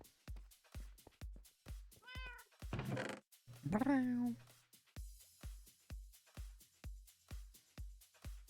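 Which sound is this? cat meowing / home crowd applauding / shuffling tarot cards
cat meowing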